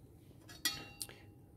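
A glass bottle of barium chloride is opened with a couple of faint clinks and a light glassy tap, soft and close in a quiet room.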